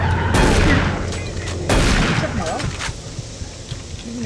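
Gunfire in the video game Doom 3 comes as two heavy booming bursts with rattling tails, loud and close, followed by quieter game ambience.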